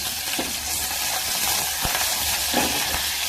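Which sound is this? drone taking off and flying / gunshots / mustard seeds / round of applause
mustard seeds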